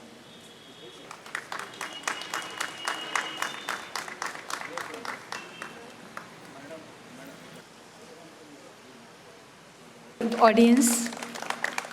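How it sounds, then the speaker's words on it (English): Scattered audience clapping at a felicitation ceremony, a brisk run of individual claps that thins out after several seconds, with a brief spoken voice near the end. "a big round of applause"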